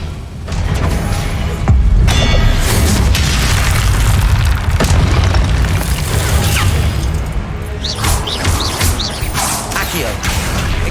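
Repeated booming spell explosions from the Confringo curse in the Hogwarts Legacy video game, loud and dense over a continuous rumble, with whooshes and bursts during a combat duel.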